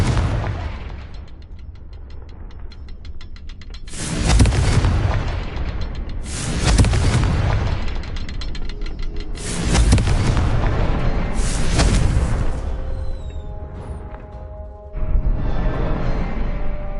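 Confringo blasting spell explosions in the video game Hogwarts Legacy, several loud booming blasts in succession with crackling tails, over a continuous game soundscape.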